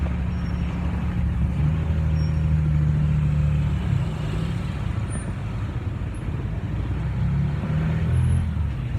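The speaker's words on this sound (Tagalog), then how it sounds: "maraming dumadaan na sasakyan" Steady roadside traffic with cars, trucks and buses passing close by, a continuous loud low engine rumble and tyre roar with a brief air-brake hiss, no talking.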